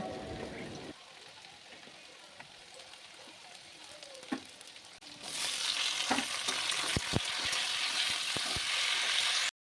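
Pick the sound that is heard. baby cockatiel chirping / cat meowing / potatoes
potatoes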